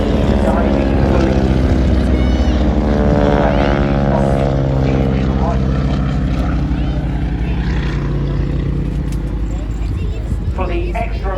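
Powerful biplane engines roaring through manoeuvres at the Southport Airshow 2024, a loud, continuous propeller drone that rises and falls in pitch, with a voice talking over it.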